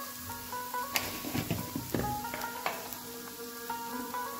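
Chilli thecha frying in oil with turmeric, a soft sizzle under sharp clinks and scrapes of a spoon against the pan.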